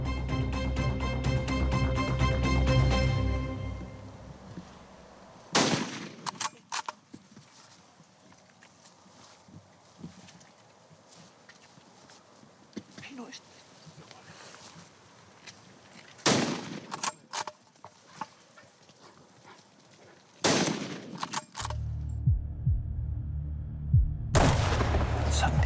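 Gunshots ring out during a wild boar hunt in the mountains of Castilla-La Mancha, Spain, with a few loud, sharp reports spaced apart across a quieter outdoor background of wind and rustling.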